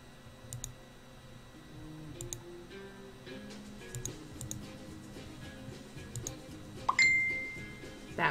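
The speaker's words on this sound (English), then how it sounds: "That would be my phone too." A phone notification near the end, a bright ringing chime that rises suddenly over a quiet bed of soft clicking and tinkling game sounds, with no talk around it.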